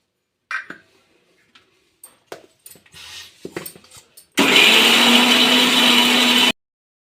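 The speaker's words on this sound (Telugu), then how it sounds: "ఇప్పుడు మిక్సీ పట్టుకున్నాం కదా" An electric mixer grinder whirs at full speed as it grinds tamarind leaf chutney with cumin, fenugreek powder, turmeric and garlic, a loud steady roar lasting about two seconds after a few scattered kitchen clicks and taps.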